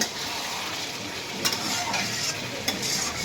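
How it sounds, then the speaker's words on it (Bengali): A thick taki fish curry sizzles steadily in a pan as it is stirred, with a constant hissing fry and a couple of brief scraping knocks from the utensil. "আমি আর একটু নেড়ে ছেড়ে নেব।"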